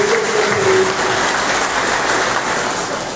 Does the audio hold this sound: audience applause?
yes